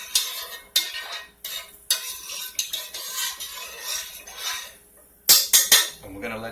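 A utensil stirs rice and beans in a pot, with repeated scraping strokes and metallic clinks against the sides, ending in a quick burst of sharper knocks, close and clear with no talking.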